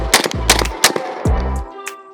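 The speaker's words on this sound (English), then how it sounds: "5 rounds of rapid succession birdshot with 0 failures" An ATI Bulldog bullpup 12 gauge shotgun fires birdshot in rapid succession outdoors, several sharp loud blasts in quick rhythm, each with a booming low tail and echo.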